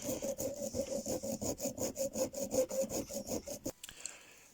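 A driftwood ring with a seacoal inlay being sanded by hand, a steady rhythmic rasping stroke about four times a second, close and even, that stops abruptly near the end.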